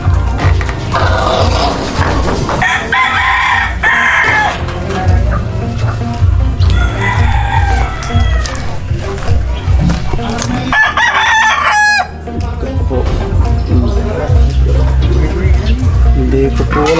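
Roosters and hens on a provincial Philippine farm crow loudly and cluck, several overlapping calls rising and falling, close by, with a person talking underneath.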